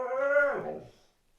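A puppy lets out a single drawn-out whimpering cry, close and fairly clear, fading away after about a second.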